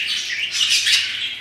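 Pet birds chirp and twitter indoors in a steady, busy flurry of bright overlapping calls, moderately loud and close, with no voices.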